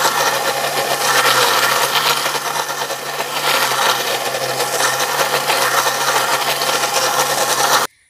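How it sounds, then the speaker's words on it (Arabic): A kitchen blender runs continuously at high speed, mixing homemade raw chocolate ingredients with a loud, steady whirring roar that stops abruptly near the end. "هبدا بقى اشغل الخلاط"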